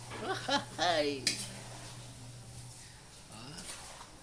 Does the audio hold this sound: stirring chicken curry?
yes